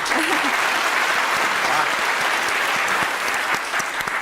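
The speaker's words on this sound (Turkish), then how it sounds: "Kıymetli alkışlarınız bize güç veriyor" Studio audience applauding at a Turkish TV word-game show, a dense, steady wash of clapping that holds at full strength for the whole stretch before easing slightly at the end; a voice murmurs briefly near the start.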